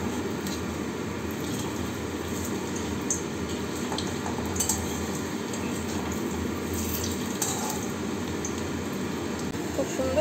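Food frying in a pan over a medium flame gives a steady, soft sizzle with faint scraping and kitchen background noise.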